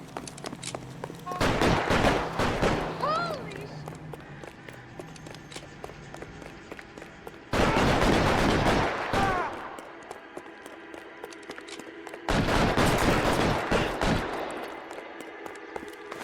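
Bursts of gunfire ring out in the video game L.A. Noire during a police shootout, three loud volleys separated by quieter stretches, with shouted voices mixed in.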